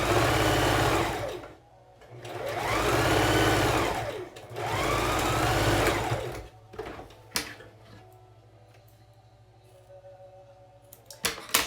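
A sewing machine stitches a face mask seam in three sustained whirring runs separated by short pauses, then falls quiet apart from faint handling clicks near the end.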